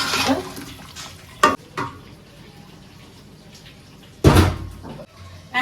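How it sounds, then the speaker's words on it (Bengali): A lid goes onto a cooking pot in a village kitchen where fish is being cooked, with a sharp metallic clank early on, another loud clatter near the end, and softer knocks and kitchen rustle in between. "আবার ঢাকনাটা দিয়ে ঢেকে দেই।"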